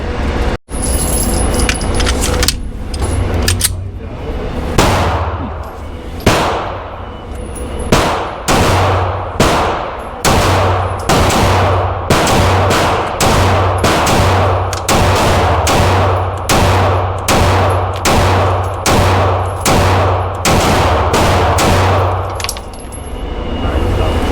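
Rapid pistol fire from a Smith & Wesson M&P Shield X at a 7-yard target: a string of loud, sharp, closely spaced cracks with short irregular pauses, repeating for over twenty seconds.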